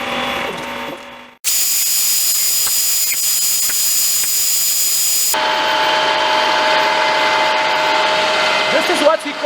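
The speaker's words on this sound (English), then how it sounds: "So use the sandpaper. It smoothens the surface" A lathe spins a machined metal tensile test sample while sandpaper smooths its surface, giving a loud, continuous, high-pitched whine that shifts in tone partway through and holds steady to the end.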